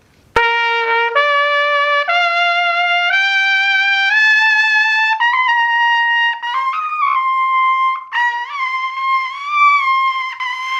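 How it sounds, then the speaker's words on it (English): A trumpet played poorly in the upper register, a string of sustained brassy notes stepping upward, then wavering and cracking unsteadily near the top, loud and close with no talking. "where I would pick up my horn after being warmed up and sound like this"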